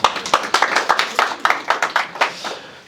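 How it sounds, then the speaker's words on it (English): Audience at a Seattle AI roundtable fireside chat applauding, a brisk burst of many hands clapping close by for about three seconds, fading slightly toward the end. "give yourselves a round of applause before we get started"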